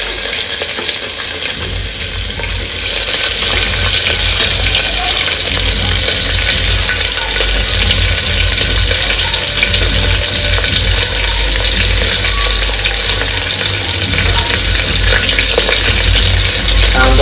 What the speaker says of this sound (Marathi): कांदा थोडासा आता हलवून घेऊ मित्रांनो, जळायला बसलाय कांदा.